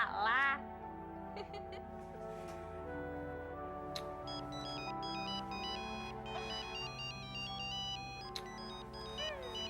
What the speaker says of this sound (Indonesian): Itu telepon penting. Saya harus angkat.